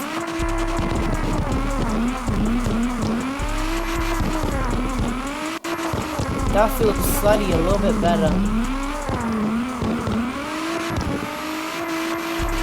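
A Nissan R32 tuned to 1100 bhp roars and revs steadily while drifting in CarX Drift Racing, its engine note rising and dropping with gear changes and tire squeal, loud and continuous under someone talking.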